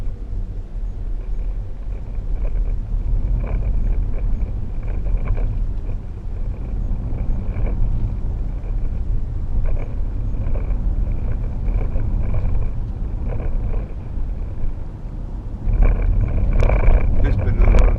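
A 2012 Range Rover Sport 3.0 SD V6 cruises along a bumpy road, its deep, steady rumble of road and engine noise filling the cabin beneath continuous talking, swelling louder toward the end.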